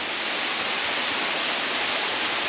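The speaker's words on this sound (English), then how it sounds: "That's the waterfall." Waterfall roaring steadily at close range in Sri Lanka, a dense, constant broadband rush of falling water with no pauses, loud and unbroken throughout.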